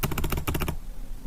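A quick burst of keystrokes on a computer keyboard, about a dozen close, crisp taps over half a second, then quiet room tone.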